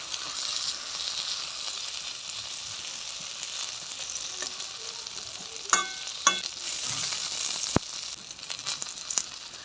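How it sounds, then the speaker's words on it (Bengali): Tomato and green chili fry in mustard oil in a pan, giving a quiet, continuous sizzle broken by a few sharp clicks and knocks as the pieces are turned, with no voices. "টমেটোটা উল্টে দেবো। একটা সাইড ভাজা হয়ে গেছে,"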